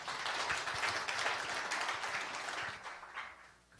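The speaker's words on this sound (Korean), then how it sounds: "여러분 큰 환영의 박수 부탁드립니다." An audience claps to welcome a professor to the podium at a humanities philosophy forum lecture. The applause is dense and steady, with no voices over it, and thins toward the end.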